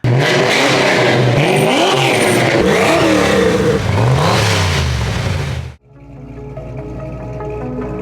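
A Fox Body Mustang engine revs loudly through several rising and falling pulls, then cuts to a lower, rougher idle burble near the end.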